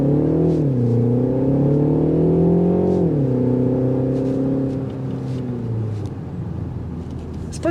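A 2025 Mini Countryman S All4 with a twin-scroll turbo accelerates hard, its engine note rising steadily through the revs, dipping at a shift, then climbing again, loud and close from inside the cabin with no talking.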